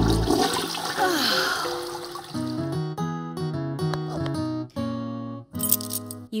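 A cartoon toilet flush, starting as a loud close whoosh of rushing water and then breaking into a bouncy string of tuned musical notes, with a short bright rise at the end.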